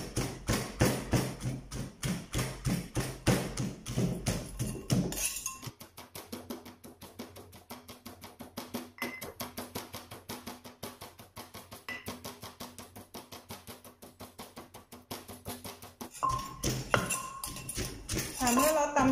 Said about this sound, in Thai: เราก็จะมาตำถั่วให้มันแตกก่อนนะคะ